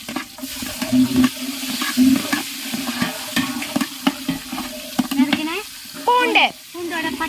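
Loud, steady sizzling of chopped garlic frying in hot oil for an eggplant curry, with occasional stirring scrapes and a brief voice near the end.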